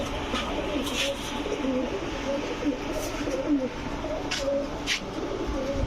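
Racer, gola and giribaz pigeons coo repeatedly at a pigeon sale, with soft throaty calls overlapping close by and someone talking intermittently over them.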